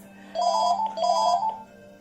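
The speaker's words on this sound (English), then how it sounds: "the phone's going, great, apologies" A phone rings indoors during a Pilates class, two clear electronic ring bursts in a row, moderately loud against a quiet room with a steady low hum.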